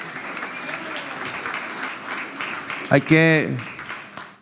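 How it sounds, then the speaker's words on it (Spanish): A church congregation claps in welcome for the pastor's wife, a short burst of applause heard mid-room under a voice speaking before and during it. "Vamos a recibirla con un aplauso."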